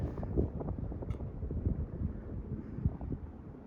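Casablanca Panama II 50-inch low-profile ceiling fan running, a soft, steady airy whoosh with low rumble, quiet and continuous with no talking.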